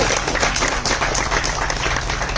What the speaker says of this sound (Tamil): கணேஷ் மாஸ்டருக்கு வந்து தயவு செஞ்சு ஒரு கைத்தட்டல் கொடுக்கும்